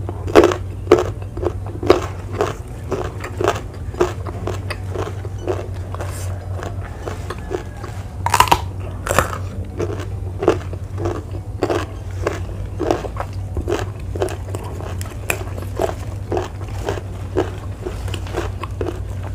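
Crunchy, crisp bites and chewing of raw jumbo papaya stem in a mukbang, with steady repeated crunches close to the mic and a low hum underneath.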